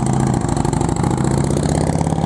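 A motorcycle engine, lighter and more powerful than a Twin Cam, runs steadily nearby at Joshua Tree National Park, a loud continuous throbbing rumble with a slight rise in pitch.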